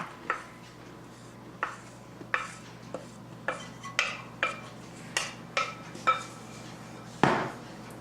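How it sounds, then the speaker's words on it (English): A utensil works flour and milk into moon cake batter in a bowl, making a run of about a dozen rhythmic scraping knocks against the dish, close and alone. "they say alternately mix the flour and milk."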